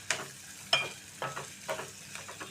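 Small fish frying in a pan for a curry with eggs, with intermittent stirring scrapes and soft sizzling bursts spaced about half a second apart, close and fairly quiet.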